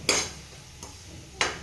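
A spoon scrapes and clinks against a pan of tadka tempering a few times, soft and close, with a faint sizzle underneath.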